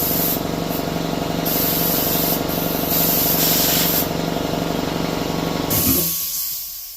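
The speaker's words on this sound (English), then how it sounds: "I'm spraying this into where the fuel goes, and I'm moving the float up and down" Compressed air hisses hard and steady into the fuel inlet of a snowblower carburetor, a loud continuous spray lasting several seconds with slight surges, then cutting off abruptly and trailing away near the end.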